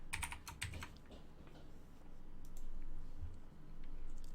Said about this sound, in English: let's type in Annie